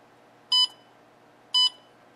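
Two short electronic beeps, about a second apart, sound sharply from a heat-treat kiln controller keypad as buttons are pressed, with quiet background between them.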